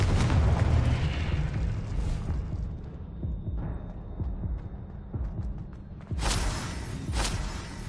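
Blast spell explosions in the video game Hogwarts Legacy, a loud booming burst at the start and another sharp burst near the end, with rumbling game action between.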